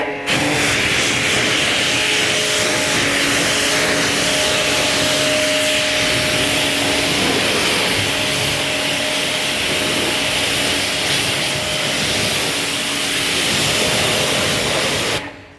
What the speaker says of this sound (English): So really good thorough rinse down, just making sure all that shampoo's off